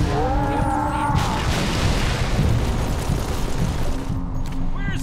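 A grenade explodes in the video game Halo 3: ODST amid a loud, dense rumble of battle noise that stays thick throughout, with no talk heard.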